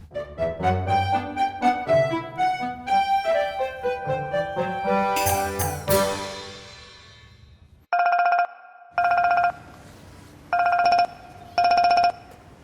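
Telephone ringing during a phone call, a melodic electronic ringtone tune followed by four evenly spaced beeping rings with short gaps, heard alone.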